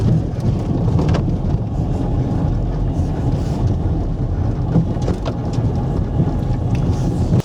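Electric boat motor drawing about 30 amps, roughly 5 to 6 kilowatts, accelerating across bumpy water, with a steady broadband rumble of hull slap and wind buffeting held close and loud throughout.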